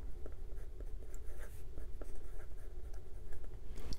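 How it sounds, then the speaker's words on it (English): A 1944 Parker Vacumatic fountain pen with a stub nib writes on paper, giving a close, continuous scratchy scraping with small rhythmic strokes and ticks, no talk. "the stub nature of the nib gives you thin horizontals and thicker verticals"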